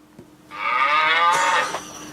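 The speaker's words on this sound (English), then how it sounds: "A sound effects app. Interrupting cow." A loud, drawn-out cow moo from a sound effects app rises after a brief tap and holds for over a second before tailing off, alone without talk.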